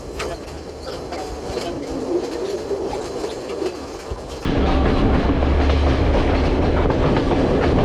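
Passenger train on the Ella to Kandy line in Sri Lanka rolling along the tracks, with a continuous rumble and rhythmic clickety-clack that grows louder midway as if heard nearer an open door, birds faintly audible.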